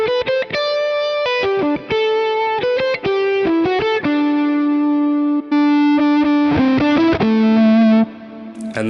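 Electric guitar with heavy distortion plays a run of sustained notes and chords, a long five-second reverb tail washing behind them at a low mix, loud and alone.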